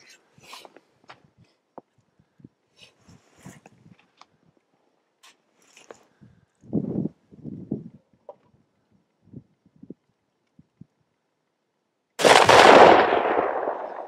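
Rifle shots at a target ring out as scattered sharp reports, some distant and faint, a few closer and louder, followed by a long, loud blast near the end.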